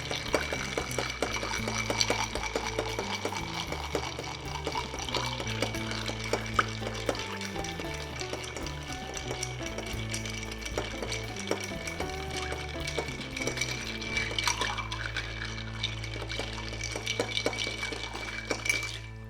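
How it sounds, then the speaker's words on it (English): A bar spoon stirs a cocktail over a large ice cube in a mixing glass, with steady close clinking and swirling ice that runs continuously for around twenty seconds without talk. "Grab our bar spoon. Stir for 20 seconds as always."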